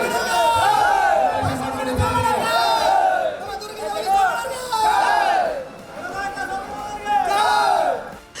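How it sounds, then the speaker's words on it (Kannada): A large crowd of supporters welcomes the politician Somanna in Hiriyur with loud chanted cheers, repeated surging shouts rising and falling in waves, close and dense. "ಇಡೀ ದುರ್ಗದ ಕೋಟೆಯನ್ನೇ ನಡುಗಿಸುವಂತಹ ಜೈಕಾರ ಮೊಳಗಿತು"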